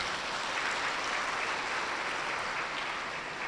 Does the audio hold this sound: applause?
yes